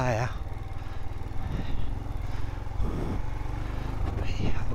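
A Royal Enfield Himalayan motorcycle engine drones steadily and loudly while riding off-road in the French mountains, with someone talking over the constant rumble.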